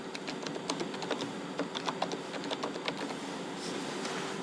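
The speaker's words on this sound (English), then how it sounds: "We have to type the patient name," Fingers tap out a patient's name on a computer keyboard in a quiet room, a quick irregular run of light clicking keystrokes over a faint steady hum.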